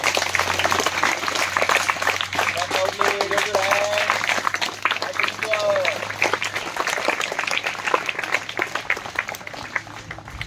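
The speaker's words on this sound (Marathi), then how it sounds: "तर आता रोहितसाठी जोरदार टाळ्या." An audience at a Shiv Jayanti celebration at a school claps steadily throughout, dense and continuous applause with voices and a few brief cheers mixed in.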